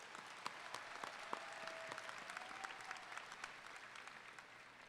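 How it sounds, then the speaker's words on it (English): A graduating class at a business school convocation claps together in a large hall, giving a steady, dense roar of applause that stays even for the whole stretch, with a few sharper individual claps standing out. "So let's give each other a round of applause."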